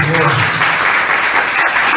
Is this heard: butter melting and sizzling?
no